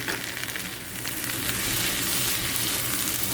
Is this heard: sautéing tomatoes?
yes